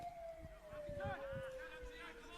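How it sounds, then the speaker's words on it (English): A faint siren being tested wails in the distance with a slowly falling tone, under crowd noise and indistinct voices at a soccer match. "that siren continues to be tested"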